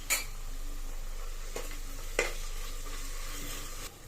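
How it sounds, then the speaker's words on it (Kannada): Ginger garlic paste sizzles with onions in a pan for tomato rice bath, a steady frying hiss broken by a few clinks of a spoon against the pan, close up with no talking. "ಶುಂಠಿ ಬೆಳ್ಳುಳ್ಳಿ ಪೇಸ್ಟ್ ಹಾಕಿ ಹಸಿ ವಾಸನೆ ಹೋಗೋದು ಫ್ರೈ ಮಾಡ್ಕೊಳ್ಳಿ ಫ್ರೆಂಡ್ಸ್"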